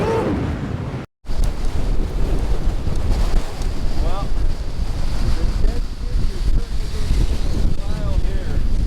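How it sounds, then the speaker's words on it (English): Strong wind buffets the microphone at a 12,800-foot Colorado mountain summit beside a parked Bronco, a loud, steady roar with a brief dropout near the start, and voices faint beneath it. "The wind is brutal"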